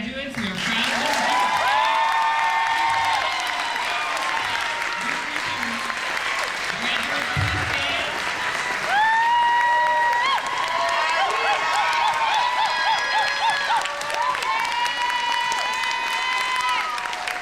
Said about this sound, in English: Let's give one more big round of applause to our graduates.